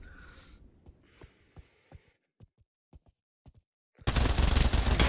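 Scorpion submachine gun firing in the Pavlov VR shooter game, a loud sustained burst of rapid automatic fire arriving suddenly after several sparse clicks and handling sounds, with no talking.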